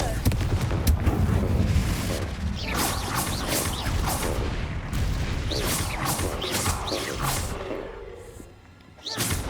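A Confringo blasting spell explosion in Hogwarts Legacy, heavy rumbling blasts and crashing debris with thuds lasting several seconds, loud and close.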